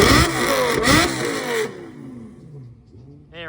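A first-generation Lamborghini Gallardo at a Toronto car meet, its engine revving hard with a rising-then-falling pitch sweep before cutting off, followed by quieter idle and a brief distant rev.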